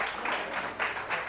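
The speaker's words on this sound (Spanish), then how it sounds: "Le damos un aplauso a Jesús en esta noche." A church congregation applauds briefly and softly, a quiet patter of clapping that swells in a few small waves.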